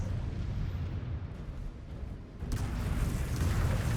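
A fire strike on a facility in the Mechwarrior 5 Clans video game sets off a sustained deep rumble of explosions that builds, dips briefly and then surges louder, a dense continuous roar with no voices.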